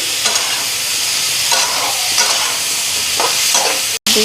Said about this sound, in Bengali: এদিকে আলু ফুলকপিটা ভাজা নিতেছি